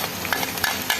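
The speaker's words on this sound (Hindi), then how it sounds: "इसी घी में हम अदरक की बारीक कटा हुआ और लहसुन की तुरियां इसमें शामिल करेंगे और इसका तड़का तैयार करेंगे" Ginger and garlic tempering sizzling in hot ghee for chicken haleem, a steady close frying hiss with small bursts of crackle and faint stirring, no voices.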